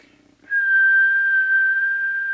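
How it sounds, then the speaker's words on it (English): A person whistles into the microphone of an Amstrad CB901 mobile CB radio for a whistle test: one steady, clear, unwavering whistled tone held for about two seconds after a short faint murmur. "Now we'll give it the whistle test."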